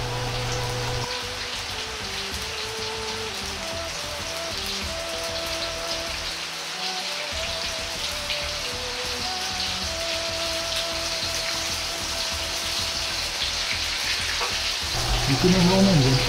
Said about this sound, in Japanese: 肉を箸で外しながら、しゃぶしゃぶようにして火を通します。